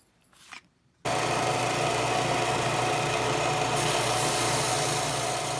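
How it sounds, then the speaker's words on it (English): A cheap Harbor Freight belt sander starts up after a brief moment of quiet and runs with a steady, loud motor whir and belt hum while smoothing the edges of a leather wallet. "I'm going to go out to the belt sander and sand the edges down."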